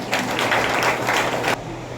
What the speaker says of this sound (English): round of applause for ma'am.